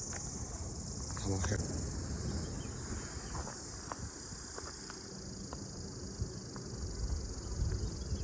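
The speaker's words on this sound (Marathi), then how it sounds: "तुम्हाला ते रातकिड्यांचा जो आवाज येतो" Steady, high-pitched cricket chirping fills the forest at Karnala Fort, continuous and close, with a few faint rustles and soft knocks beneath.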